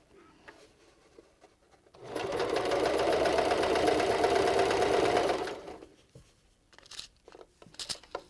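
Sewing machine stitching through a thick fabric face mask with flannel layers, a steady rapid whirring run of about three and a half seconds between quieter handling sounds.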